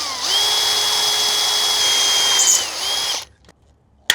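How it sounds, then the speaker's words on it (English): A powered tool whines steadily for about three seconds while setting a pop rivet into a ColorBond gutter corner, then cuts out to near silence before a single sharp snap. "I'll just put one pop rivet in first."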